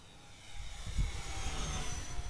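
A remote-control F-86 model jet flies at full throttle, a steady whining roar with high tonal lines that swells slightly as it passes.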